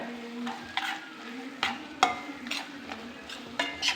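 Chicken curry masala sautéed and stirred in a pan, with a steady low sizzle under repeated scraping strokes of a spoon, close and moderately loud, no voices.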